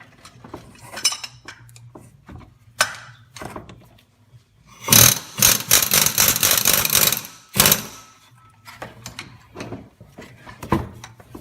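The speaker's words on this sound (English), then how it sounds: "you knock the wrench with like a 3-pound sledge and kind of shock it loose" A three-pound sledgehammer strikes a wrench to shock loose a front-cover bolt on a Ford 5.4L 3-valve engine, a dense burst of sharp metallic blows around midclip, with scattered clanks of tools before and after.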